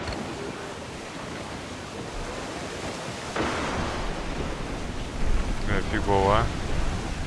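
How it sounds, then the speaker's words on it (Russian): Stormy sea waves in the pirate video game Assassin's Creed IV Black Flag, a constant roar of surf and wind that swells louder partway through, with a short whistling tone near the end. "Море разбушевалось!"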